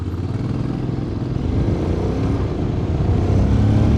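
A Honda X-ADV 750 maxi scooter accelerates hard in sports mode, its engine roar building steadily and growing louder over a few seconds, with heavy wind rush.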